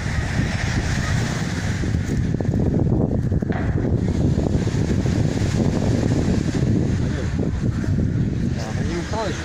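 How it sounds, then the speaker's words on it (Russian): Wind gusts and sea surf roll on the New Year's seashore at Gelendzhik, a dense, continuous roaring wash with wind buffeting the microphone, steady and loud throughout. "Немножко вам новогоднего моря."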